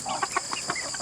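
Hens clucking at close range in a few short, separate bursts spread across about a second, with no other sounds between the calls.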